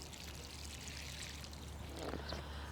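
Water pours onto a newly planted bare root astilbe in a raised garden bed, a soft, close, steady splash and trickle lasting a few seconds.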